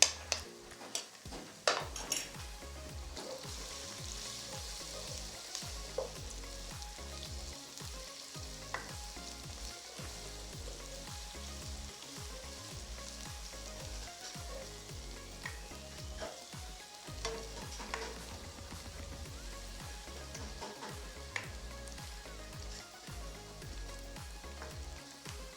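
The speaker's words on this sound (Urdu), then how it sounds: "ایک سے 2 منٹ کے لیے تھوڑا ہم فرائی کریں گے تاکہ میں کچا پن جو ہے وہ ختم ہو جائے" Ginger garlic paste frying with light-brown onions in a pan, a steady close sizzle running throughout with occasional utensil clinks and stirring scrapes.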